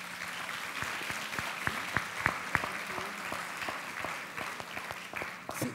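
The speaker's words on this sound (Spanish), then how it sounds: "Un aplauso para ellos." Church congregation applauding to welcome visitors: steady, full applause from a crowd in a large room, dense and even throughout with a few sharper individual claps standing out.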